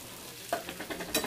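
Carrot pieces and beans fry in a pan and are stirred, giving a few faint, quick scraping stirs over a quiet background sizzle.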